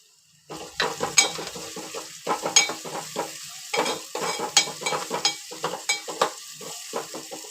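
An onion tempering with asafoetida and turmeric frying in a pan, stirred in quick irregular strokes that scrape and clink over a crackling sizzle, close and clear with no voices.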